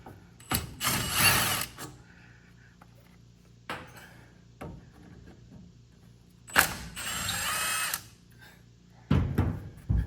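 Ratcheting clicks from a 13 mm socket on a ratchet loosening the front brake caliper bolts on a 12th-generation Ford F150, coming in several close, loud bursts of rapid metallic clatter separated by short pauses.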